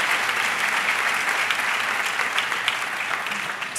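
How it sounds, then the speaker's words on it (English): A school convocation audience gives a steady round of applause, a dense wash of many hands clapping at even loudness from start to finish. "let's give everyone else just a round of applause"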